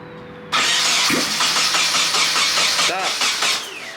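A Nissan 240SX engine, freshly fitted with a repaired fuel line, cranks and fires up abruptly, loud and close, then settles into a rough, uneven running note for several seconds.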